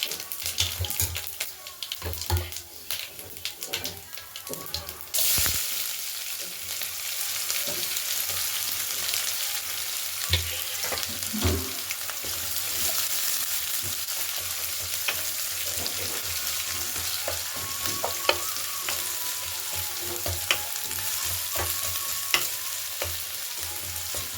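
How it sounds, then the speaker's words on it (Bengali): Chopped onion dropped into a hot wok with dry red chillies and whole spice tempering, for a Bengali dried-fish curry with beans and potato; after a few scrapes the sizzle jumps up to a loud, steady crackling fry with occasional stirring clatter. "এবার কড়াই গরম করে শুকনো লঙ্কা আর আঁচফোড়ন দিয়ে কুচুনো পেঁয়াজটিকে দিয়ে দেবো"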